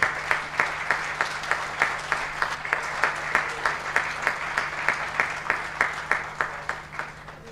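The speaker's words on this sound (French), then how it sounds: "Applaudissez un peu plus fort, s'il vous plaît." Conference audience claps in steady, rhythmic unison, with evenly spaced beats repeating for several seconds over a low electrical hum in a large hall.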